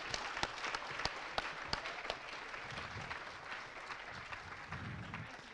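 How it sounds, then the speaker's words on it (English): A conference audience at MINECON 2015, at a multiplayer map creation panel with Hypixel, applauds, with steady clapping and a few sharp individual claps standing out, fairly faint and distant across the whole stretch. "Big round of applause."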